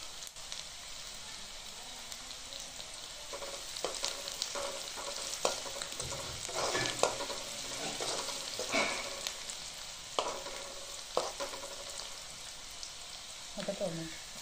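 Onion and tomato fry in a pan for a mixed vegetable dish, giving a steady close sizzle broken by repeated scraping stirs throughout.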